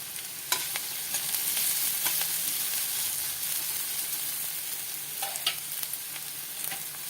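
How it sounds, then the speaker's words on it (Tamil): Onion and crushed garlic fry in a pan for mushroom soup, giving a steady, faint sizzle with a few sharp crackles and stirring clicks, close and uninterrupted by voices. "ஆனியன் போட்டாச்சு, அது கொஞ்சம் வதங்கட்டும். இதில் இடித்து வச்ச பூண்டை போட்டுடலாம்."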